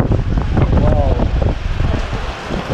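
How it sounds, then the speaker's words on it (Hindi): Strong wind buffets the microphone in continuous, rumbling gusts, loud and close, with no clear speech. "तो तेज़ हवा चल रहा है यहाँ पे"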